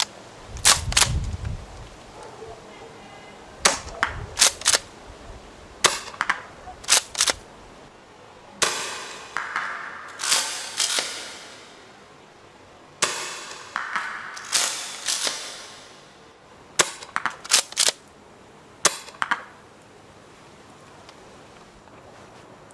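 A Tokyo Marui M870 airsoft shotgun fires 0.25 g BBs in a series of sharp, loud cracks, each followed by the clack of the pump action, repeated in spaced bursts.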